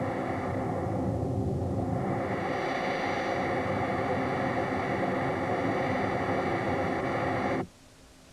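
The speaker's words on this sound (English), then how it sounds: "a melody can be played by filtering the jet noise" Jet engine noise run through a synthesizer's band filters, a dense steady broadband roar with bright narrow bands shifting in the middle, loud and continuous for about seven and a half seconds before cutting off abruptly.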